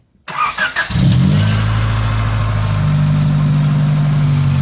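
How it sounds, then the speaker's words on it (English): A Honda Civic fitted with a body kit cranks over briefly and catches, then settles into a steady, loud idle that holds close to the listener. "Starts up, runs fine. Idle drops down like it's supposed to."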